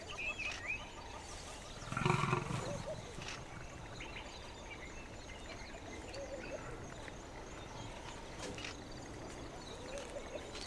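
Two male big cats roar across a wild valley in the Lapalala Wilderness; one deep, fairly distant roar bursts out among quieter grunts, with birds and frogs calling faintly in the background.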